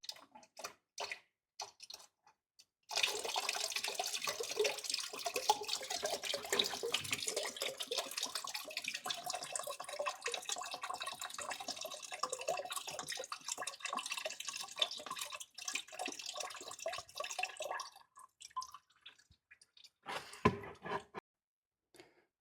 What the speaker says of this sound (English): draining it right here. Trying to catch this before it makes a big mess.